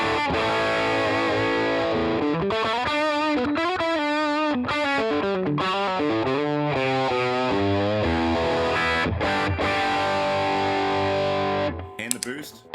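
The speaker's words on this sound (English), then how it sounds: "Let's try that actually with the Tube Screamer quickly." Electric guitar played through a modeled '57 Fender amp in AmpliTube with a Tube Screamer pedal, a dense, loud distorted riff with sustained chords and quick melodic runs, continuous for about twelve seconds before ringing out.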